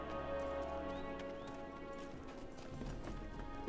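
Horse hooves clip-clop steadily in The Lord of the Rings Online, a continuous close rhythm of clopping over a busy game soundscape with some faint birdsong.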